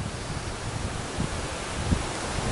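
Wind rushes steadily past the microphone outdoors at the Battert cliffs, a dense continuous roar with faint rustling leaves and no voices.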